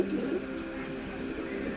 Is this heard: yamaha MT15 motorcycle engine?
no